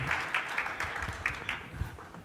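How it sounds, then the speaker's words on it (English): Scattered applause from a modest audience at a hotel dining and gastronomy event, a series of distinct claps that stay fairly quiet and thin rather than a full ovation. "Give a big applause"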